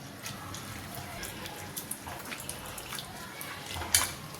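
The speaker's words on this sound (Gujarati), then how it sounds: "આવી રીતે પાણીમાં ધોઈ લેવાની છે।" Sliced potatoes for French fries being rinsed by hand in a bowl of water: soft sloshing, scattered drips and light splashes, with a sharper splash near the end, partly under a speaking voice.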